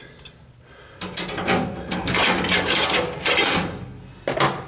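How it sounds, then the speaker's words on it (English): Clecos being pulled out of sheet metal during tinwork, a run of close, rasping metallic clicks and scrapes in quick bursts with no talking. "Pull my clecos out quick."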